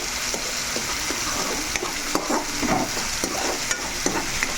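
A spoon stirs and scrapes through a pan of sea prawn and gongura curry, steady gentle sizzling broken by irregular clicks and knocks against the pan, close and clear.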